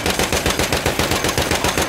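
Machine gun fire in the video game Battlefield 1: a loud, close, rapid rhythmic burst of shots, about eight per second, sustained without pause.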